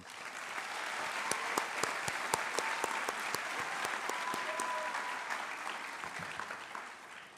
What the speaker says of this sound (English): I think we owe them a round of applause as well